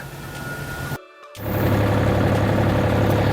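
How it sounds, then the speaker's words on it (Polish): An engine driving a hydraulic sectional valve calibration rig hums steadily, drops out briefly, then starts and settles into a loud, even idle drone. "Możemy uruchomić silnik."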